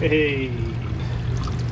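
Water pours steadily from a motorhome faucet after hookup, a continuous splashing stream heard close under a brief exclamation from a voice.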